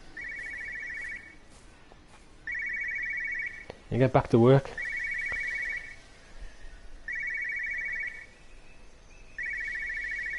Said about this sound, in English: So there's a phone ringing.